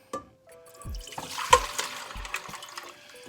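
Clove-infused water is poured back into a container in short splashing bursts, faint and close, with small gurgles and drips between pours.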